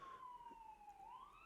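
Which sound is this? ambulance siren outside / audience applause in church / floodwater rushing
ambulance siren outside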